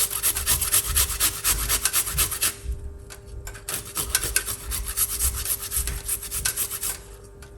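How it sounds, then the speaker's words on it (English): Food being grated by hand for a daily health spoonful recipe: steady rapid rasping strokes, close and clear, in two bursts separated by a short pause, with no talking. "you're gonna take them and grate it"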